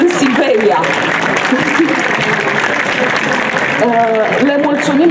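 An audience at a book launch at the Gaudeamus book fair applauds steadily for several seconds, a dense clapping wash with a few voices and cheers rising over it.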